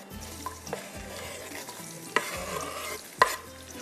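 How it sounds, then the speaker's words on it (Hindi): Onions browning in a pan for a karahi masala, with a soft continuous sizzle and scattered sharp clinks and scrapes of stirring, fairly close and with no talk. "जब तक ये प्याज हमारा अच्छे से ब्राउन हो रहा है।"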